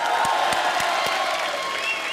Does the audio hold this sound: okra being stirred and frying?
no